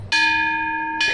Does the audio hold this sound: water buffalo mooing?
no